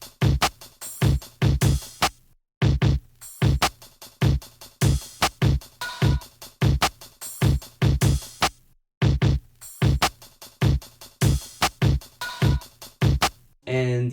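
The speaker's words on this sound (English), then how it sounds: "The full drums will sound like this." A programmed hip-hop drum beat with crisp hi-hats, punchy kicks, snares and added percussion plays loud and steady for about fourteen seconds, with two brief dropouts, and no talking over it.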